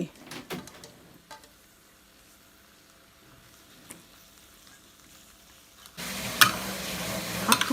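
Sweet and sour stir-fry with tomatoes and tomato sauce in a pan. Quiet clinks and stirring give way to a loud, close sizzle of frying over the last couple of seconds.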